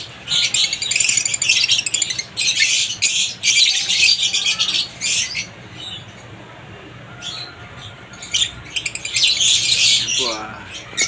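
Opaline lutino and cremino parrots chirp in an aviary, bursts of sharp, rapid squeaky calls coming in clusters with brief pauses, fairly close and lively, with faint background noise between calls.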